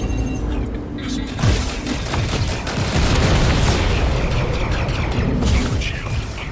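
Heavy booming missile explosions and bursts roar in Star Citizen space combat, loud and overlapping for several seconds, while a voice talks over the blasts.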